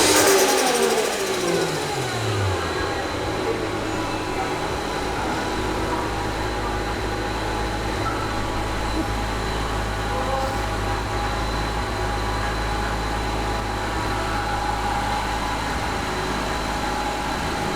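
A Mazda RX8 fitted with a turbocharged 1JZGTE VVTI engine, HKS Gold ECU, revs loudly and steadily up close, its deep, sustained engine roar filling the space after a brief climb at the start, with no talking.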